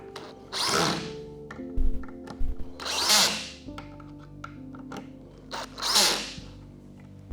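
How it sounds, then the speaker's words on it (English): A power drill drives screws into the brackets of a Roland FP-90X digital piano pedal unit, three separate close, loud whirring bursts, each ramping up and tightening, with small clicks and handling knocks between them. "then I go through and drill them in and get them tight"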